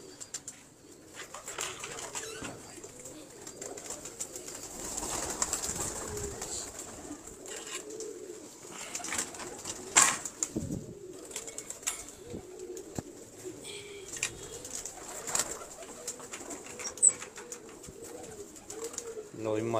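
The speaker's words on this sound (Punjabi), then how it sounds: "ਜਿਹੜੇ ਸਿਆਲਕੋਟ ਦੇ ਮਸ਼ਹੂਰ ਅਫਰੋ ਕਬੂਤਰ।" Famous Sialkot Afro pigeons in a fancier's loft, soft intermittent cooing and bird calls under ongoing speech, with occasional brief rustles and flaps.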